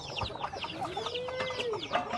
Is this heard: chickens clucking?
yes